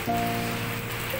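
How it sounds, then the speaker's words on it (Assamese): Heavy rain with large drops falls in a steady, dense patter that fills the whole moment, with no voices over it. "চাওকচোন গোটেই ডাঙৰ ডাঙৰ টোপাল পৰিছে"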